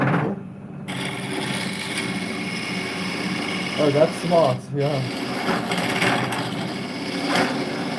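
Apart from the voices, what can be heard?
lathe turning a resin bowl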